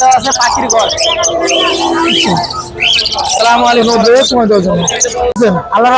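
Lories and other caged birds chirp, whistle and screech continuously at a weekly bird market in Tongi, Bangladesh, the calls loud and close amid market chatter.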